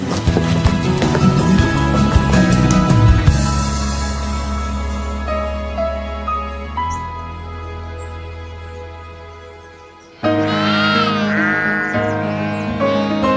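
Sheep on a farm in South Wales bleating loudly and close by, several overlapping wavering calls that carry on and off throughout, with a fresh, louder burst of bleats near the end.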